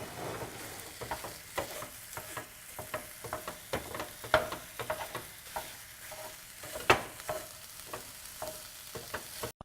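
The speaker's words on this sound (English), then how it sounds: "I'm just going to use the mix and chop to crumble it all up" Ground pork cooking in a hot pan, with a busy close sizzle under repeated sharp scraping and tapping as a mix and chop tool crumbles the meat in an irregular rhythm.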